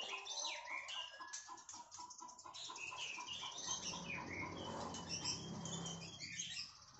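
A white-rumped shama, a Medan-strain Murai Batu, sings in a series of quick whistles, chirps and trills, moderately near, with rustling and fluttering sounds in the background.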